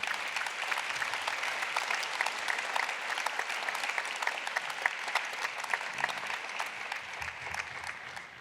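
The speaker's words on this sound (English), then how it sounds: "I hope you can hear the applause which is directed towards you." A panel debate audience gives sustained applause. It is an even, moderately distant wash of many hands clapping that carries on for around eight seconds.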